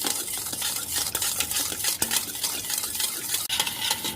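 Eggless cake batter of sugar and oil being mixed steadily in a bowl, a continuous scraping, whisking swish close up with occasional utensil clinks, no voices.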